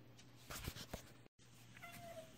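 A house cat meows a few times before feeding, faint and close, over a low steady hum, with a brief dropout partway through.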